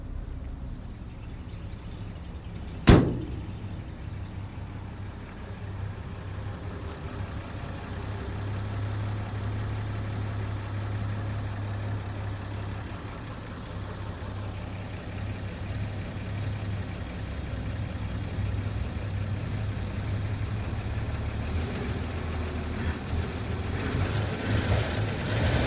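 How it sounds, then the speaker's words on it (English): A restored 1954 Chevy 3100 pickup with a 235 inline-six, Fenton exhaust manifold and 4-speed manual idles smoothly and steadily at a moderate distance, a low even rumble after one sharp click near the start. "Engine sounds really nice."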